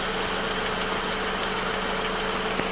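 A 2004 Opel Astra G idles with its air conditioning compressor running, a constant vibrating drone and faint tonal whine, close and even throughout.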